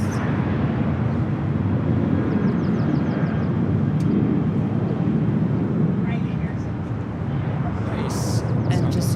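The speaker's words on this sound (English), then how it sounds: "that's Southwest Airlines Flight 23 off to Dallas, 737-700" A Southwest Airlines Boeing 737-700 takes off at LAX, giving a broad, steady jet roar that holds loud throughout, heard from a distance with people talking over it.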